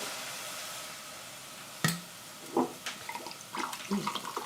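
Three quarters of a cup of water poured while making khao soi, a splash that starts abruptly after a quiet moment and is followed by several short trickling and sloshing sounds nearby.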